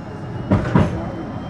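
Blackpool tram running along its rails between Starr Gate and Fleetwood, with two quick clacks of wheels over rail joints heard from inside the carriage over a steady rolling rumble.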